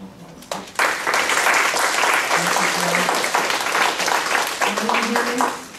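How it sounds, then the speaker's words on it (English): Audience applause for a speaker at a rural talk on handling dementia, a dense steady clapping that swells quickly after a brief pause and holds loud and continuous before tapering at the end. "please give her a little round of applause"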